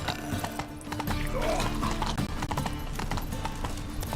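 Roach, Geralt's horse in The Witcher 3, gallops with loud, rapid, rhythmic hoofbeats close by, and a brief neigh rises partway through.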